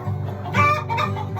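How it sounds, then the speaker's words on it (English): Chickens cluck and murmur close by in a short, steady burst, with a louder squawk in the middle, heard without talk. "3 little chickens"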